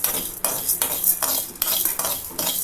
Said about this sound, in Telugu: మినపప్పు దూరగా వేయించుకుందాం. సిమ్లో పెట్టి వేయించుకోవాలండి.